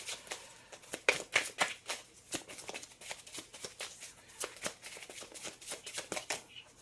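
Oracle cards are shuffled in quick, crisp riffling bursts and flicks that repeat steadily at close range, with soft speech murmured in between.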